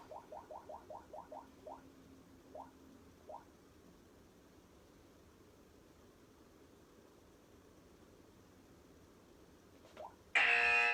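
A workout interval timer gives a quick run of short chirping beeps, then a few spaced single beeps, fairly faint in a quiet room, before a loud harsh burst at the end.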